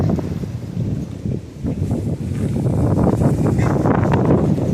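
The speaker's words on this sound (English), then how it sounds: "It's windy out here." Strong wind outdoors buffeting the microphone, a loud, steady low roar with gusty rumbles and faint rustling.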